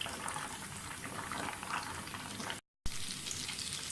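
Suji kachoris fry in hot ghee over moderate heat, giving a steady, dense sizzle and bubbling that continues throughout, with a brief dropout near the end.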